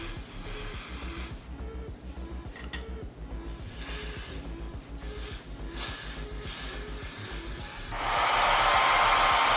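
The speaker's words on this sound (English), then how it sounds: "And I'm gonna spray." Short hissing bursts of spray during a wig install, repeated in quick pulses over a low rhythmic hum, ending in a longer, louder continuous spray.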